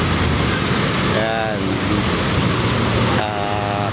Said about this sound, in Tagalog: medyo malakas ang hangin dahil dito sa bagyong si Paulo